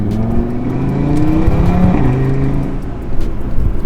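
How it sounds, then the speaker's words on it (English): A catless Audi RS3 with a turbo revs hard in dynamic mode with the sunroof open. The engine drone rises and falls in loud sweeping pitch runs, with a whooshing surge toward the end. "When you floor it, you can hear the whoosh, the turbo sound and all that stuff"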